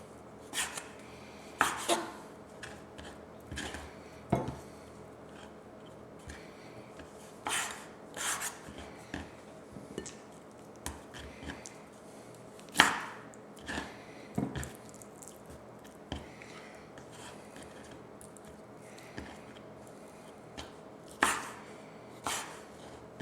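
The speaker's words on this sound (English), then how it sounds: "we're just going to cut this into about 1-inch pieces" A knife cuts pre-sliced flank steak into 1-inch pieces for beef and broccoli stir fry, giving a series of short, uneven rasping strokes against a board, close and moderately loud, with pauses between cuts and no talking.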